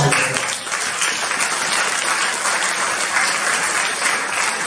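A church congregation claps loudly and steadily, the dense applause filling the room without a break, with a few voices faintly mixed in.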